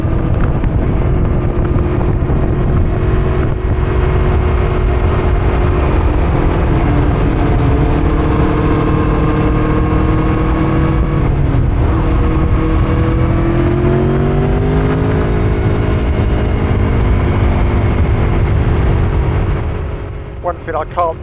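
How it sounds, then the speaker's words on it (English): An Aprilia V4 motorcycle engine drones steadily while riding through Snowdonia, its pitch rising and falling with throttle changes under heavy wind rush, loud and continuous with no speech. "which you probably already picked up on, is the sound of the Aprilia"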